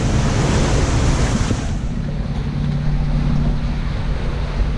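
A sailboat motoring across sea swell off Barcelona, with a little genoa and mainsail set: a steady, loud rush of waves and wind against the hull over a low engine drone, continuous throughout.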